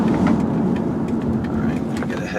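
A 2002 Ford Taurus S wagon driving and turning around, its engine giving a steady low hum with road noise from inside the cabin, fairly loud and even throughout.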